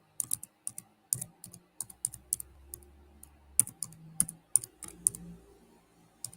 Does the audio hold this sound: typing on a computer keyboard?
yes